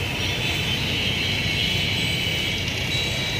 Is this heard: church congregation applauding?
no